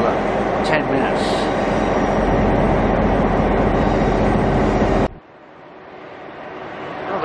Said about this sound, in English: here's the spirit of the Outback train